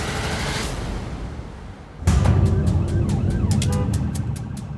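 An ambulance siren wails at a roadside emergency scene, rising in as it approaches and becoming loud and steady in repeated cycles over traffic noise from about halfway through.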